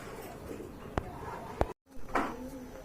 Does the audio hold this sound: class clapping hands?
no